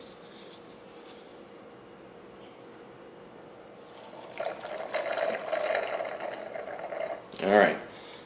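Fork oil bubbles and gurgles faintly while an MV Agusta F4 1000 fork is filled, building up midway and ending in a brief louder burble, set against quiet workshop background.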